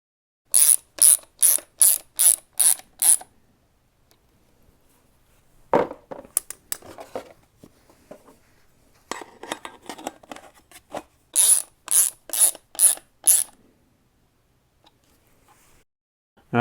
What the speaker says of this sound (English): Use the really coarse thread Torx drive screw, install them like this.